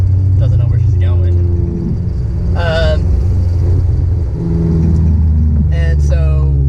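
A Honda S2000 CR fitted with an R1000 exhaust rumbles loudly and steadily up close, with engine tone rising under acceleration and short higher-pitched bursts over the drone.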